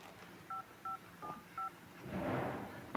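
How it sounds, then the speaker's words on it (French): A telephone keypad being dialed: four short, clean two-tone beeps in a steady rhythm, followed by a softer burst of noise, with no talking. "Je vais l'appeler au téléphone tout de suite."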